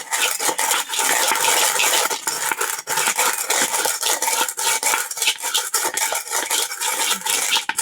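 A utensil stirs gourd and egg curry in a pan, with continuous loud scraping and clinking against the metal in a quick, uneven rhythm and no talking.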